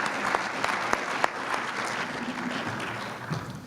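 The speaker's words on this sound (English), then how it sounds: "Let's give her a big round of applause." An audience at a health policy conference gives a round of applause, a dense sustained patter of clapping with a few sharper claps standing out, moderately distant and steady throughout.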